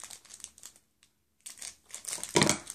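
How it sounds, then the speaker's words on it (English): A plastic Shopkins blind bag crinkles as it is torn open in a few close, scratchy bursts, with a brief pause before a louder final rustle. "open your other blind bag first"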